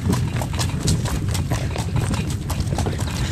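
Hooves clip-clop in a quick, steady rhythm close by, several horses with foals moving together to pasture, with no clear neigh standing out.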